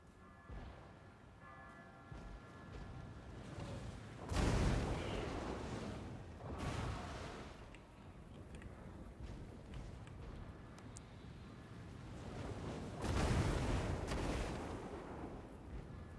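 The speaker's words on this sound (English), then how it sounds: "Yeah, I like this flame cannon." Flame cannon firing in the video game Total War: Warhammer 2, with two loud roaring blasts several seconds apart over a steady background of battle noise.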